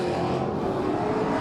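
Race cars at Claremont Motorsports Park roar past in a dense, loud wall of engine noise, a continuous high-revving drone with no breaks over the short stretch.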